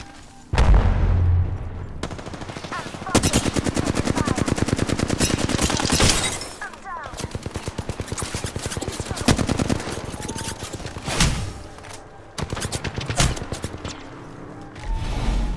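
Video game gunfire rattles in long, rapid automatic bursts with a few heavy booms, loud and close, broken by short pauses and brief speech.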